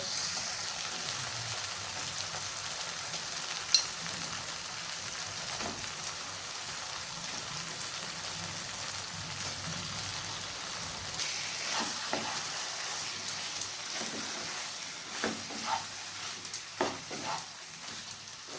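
Chicken pieces fry in a spiced masala with tomato paste for chicken kosha, giving a continuous soft sizzle, with scattered stirring scrapes and taps growing busier toward the end and no talk.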